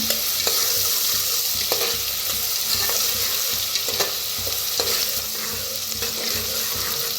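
Steady, loud sizzling of chicken frying in hot oil in a pan fills the scene, with occasional scraping clicks as the pan is stirred; no voices.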